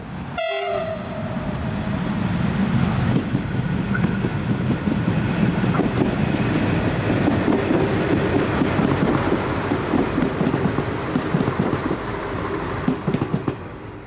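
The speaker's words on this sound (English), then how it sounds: "another sprinter set arrives on its way to Seymour" A Sprinter diesel train set rolls in on a wet, windy day, a loud steady rumble of rail noise building close by, with a horn sounding at the start and wind buffeting the microphone.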